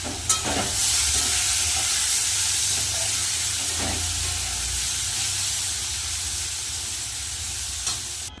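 Green chillies go into hot oil in a wok-style pan and sizzle in a loud, continuous hiss with a few sharp spits and stirring scrapes, close up and without talk.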